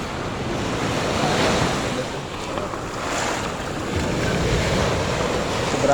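Strong sea waves crashing and washing onto a beach, a continuous loud roaring surf that swells and ebbs over several seconds, with wind buffeting the microphone and no talk.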